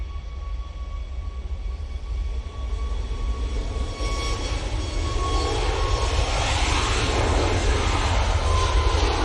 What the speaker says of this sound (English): we go this 737 MAX 8